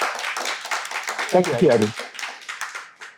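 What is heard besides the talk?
applause for a student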